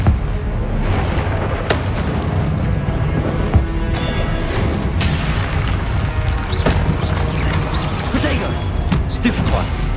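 Confringo explosive spell in Hogwarts Legacy, its booming blasts and crashing impacts thundering in a dense, loud battle mix with voices over it.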